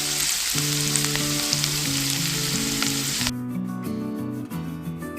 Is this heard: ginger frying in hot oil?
yes